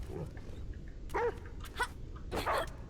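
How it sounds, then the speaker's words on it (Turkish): A dog barks in the video game Die Young, a few short barks spread over a few seconds, heard against low background game ambience. "Ya bir köpek."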